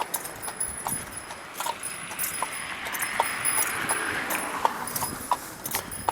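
A single horse's hooves clip-clop in a steady, moderately close rhythm on a road in farm country near Lewisburg, Pennsylvania, with light jingling of harness and a constant outdoor hiss behind the beats.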